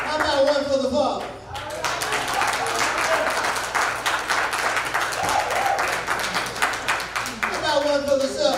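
A church congregation claps in praise, a thick run of many hands that swells after a brief spoken call and holds steady, with voices and a sustained musical tone around it.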